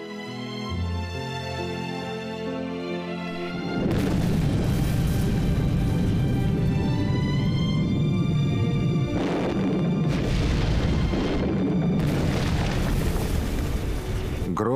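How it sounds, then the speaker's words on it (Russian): Rock blasting on the southern slope of Mount Taihang in Linxian County, Henan, China; a loud rumbling blast erupts after a quieter stretch, followed by further heavy booming bursts and a sustained roar. "Грохот взрывающейся горной породы переносит нас на южный склон горы Тайханшань"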